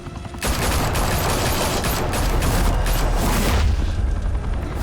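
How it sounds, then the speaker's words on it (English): Sustained gunfire and booming blasts fill a Batman: The Telltale Series video game firefight, loud and continuous for several seconds with no talking over it. "Now we only have to take one of you down. Open fire!"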